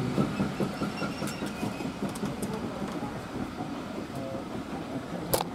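GWR No 7820 Dinmore Manor, a steam locomotive, hauling a train at Chinnor: a faint, steady rumble of rolling wagons with rhythmic clickety-clack from the wheels, heard at a distance with no talking.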